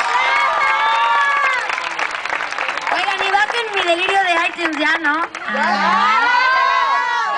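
Crowd at a fan conference with a singer in Monterrey cheering, whooping and applauding continuously and loudly, excited shouts and high screams layered throughout, with a voice speaking over the din.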